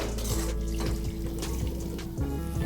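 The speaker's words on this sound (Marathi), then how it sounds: "आता मी त्याच्यात पाणी घालते।" Water poured from a vessel into a pan of roasting masala for matar paneer, a steady splashing pour lasting a few seconds at moderate level with no talk.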